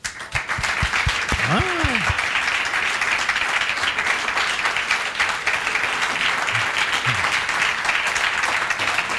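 Church congregation applauding the Lord during a service, a dense, steady wash of clapping filling the room throughout, with a brief spoken exclamation near the start.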